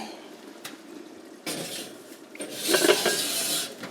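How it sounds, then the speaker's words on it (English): A lid is set onto a simmering casserole pot and the pot is moved into an oven, heard as a brief metallic clink followed by a rising hiss and clattering scrape, close and without talk. "I'm gonna go ahead and get the lid on it. And I'm gonna transfer it into the oven"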